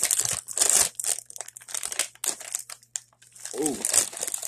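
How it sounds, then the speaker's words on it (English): A bag of Lay's Crispy Taco flavored chips is torn open and crinkled by hand, with bursts of crisp plastic rustling and tearing close up, while a person talks over and between the crinkles. "Like, we're gonna open these up."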